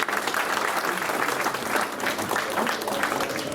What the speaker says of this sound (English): You guys already clapped for primetime guys here